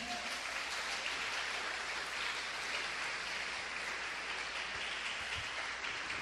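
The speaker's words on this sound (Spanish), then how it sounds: "¿Por qué no aplaudimos al Señor?" Congregation clapping in a church service, a steady wash of many hands applauding continuously throughout, quiet and even without speech.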